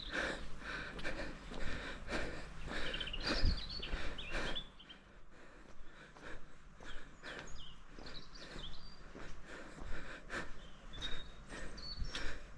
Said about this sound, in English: as you can hear, the birds here are used to noise, used to road noise, used to people, so they'll sing all day long